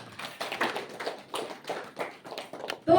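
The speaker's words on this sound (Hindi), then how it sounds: "ताली बजा दो फिर" Audience hands clapping in a brief, fairly quiet patter of claps at a morning session, with a louder burst at the very end.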